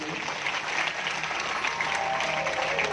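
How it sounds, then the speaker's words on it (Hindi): Devotees at a Bhagavat katha in a Himachal temple clap loudly for the organizing committee, dense steady applause from a crowd with faint background voices underneath. "एक बार ना आप इस कमेटी के लिए जोरदार ताली बजाएंगे।"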